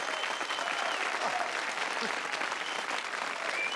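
A studio audience at a 1987 television game show applauds and cheers in a dense, continuous wash of clapping with crowd voices mixed in, loud and sustained for the whole stretch.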